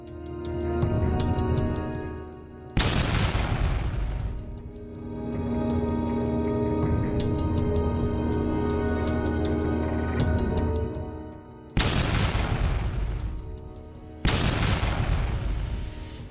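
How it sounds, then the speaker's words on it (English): A 155mm howitzer firing an M825 white phosphorus artillery round: loud booming blasts, each followed by a long ringing, rumbling decay. Three or four shots are spread across the stretch, with sustained resonant tones between them. "The MTSQ fuse is set, and the round is placed inside the breech, and is fired towards the target area."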